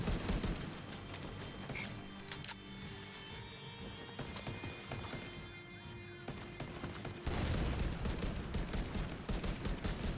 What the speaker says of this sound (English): That's like an auto machine gun